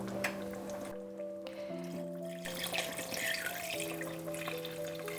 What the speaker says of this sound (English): I'm gonna add a little bit more liquid.